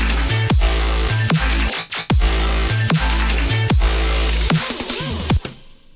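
A synth bass drop from a colour bass remix, built in Vital: loud, repeated heavy bass hits in a chopped rhythm with sharp pitch-dropping sweeps between phrases, ending abruptly.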